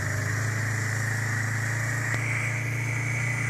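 A Yamaha Bear Tracker 250 ATV idling during a cold-start warm-up, with a steady near engine hum and a thin high whine running alone throughout, plus one brief tick partway through.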